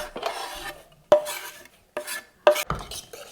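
A tiny whisk mixes salad dressing in a small bowl, giving short scraping, rasping strokes in bursts separated by brief pauses, with no talking.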